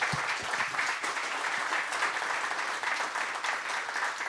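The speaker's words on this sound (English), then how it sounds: "let's give our panelists a round of applause" An audience applauds panelists at the end of a public panel discussion on irrigation and water, a steady, moderately distant wash of clapping that lasts several seconds with no voices over it.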